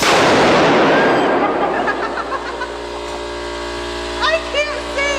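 An electromagnetic quarter crusher firing, with one loud, sharp bang at the start that decays into a ringing, crackling tail, followed by brief whooping noises and excited voices.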